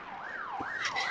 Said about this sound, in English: The sirens are too loud.